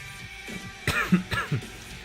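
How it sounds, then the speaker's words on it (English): Several short, rough coughs or throat-clearing bursts close to the microphone, coming in two quick clusters over a quiet background. "excuse my coughs"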